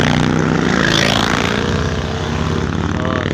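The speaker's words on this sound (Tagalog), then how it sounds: "Nagmo-motor." Tourists riding motorcycles through the Bohol countryside in the Philippines, engines roaring loudly and close as they pass by in a continuous dense stream, with no talk.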